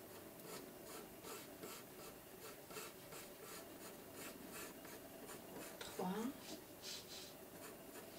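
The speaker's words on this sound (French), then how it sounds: "je vais déjà dessiner les deux côtés" Watercolour felt-tip markers dragging across paper while a fir tree is drawn, producing repeated soft, rhythmic scratchy rubbing strokes close up, with a person talking over them.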